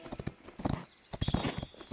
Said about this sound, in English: We're going to just have a little gallop around Switzerland.